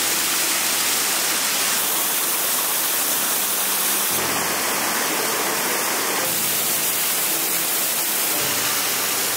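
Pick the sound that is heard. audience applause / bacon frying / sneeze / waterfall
waterfall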